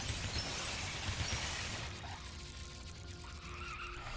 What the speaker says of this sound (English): I'm gonna try and use the car to bash through this central area